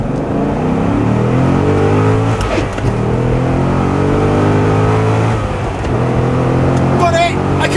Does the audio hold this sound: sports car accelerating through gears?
yes